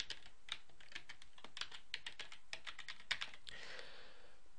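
A user ID and password are typed on a computer keyboard, a quick, uneven run of crisp key clicks close by and alone, pausing briefly before a final flurry.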